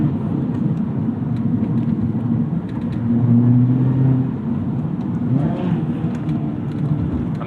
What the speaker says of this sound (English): I'm either under or over blipping the throttle because the pedals aren't quite what you expect.